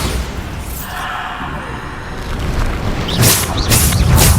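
A Bombarda blasting spell going off in Hogwarts Legacy, a loud close boom with a rumbling burst followed by sharp bright impacts near the end, over a steady background of game combat noise.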